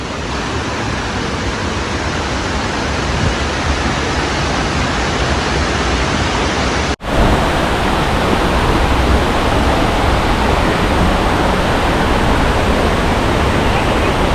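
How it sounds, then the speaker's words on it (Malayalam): Vazhvanthol waterfall in the forest: loud, continuous roar of rushing water, steady and close throughout, with a brief dropout midway. "അങ്ങനെ വെള്ളച്ചാട്ടം ദൃശ്യമായി തുടങ്ങി കേട്ടോ."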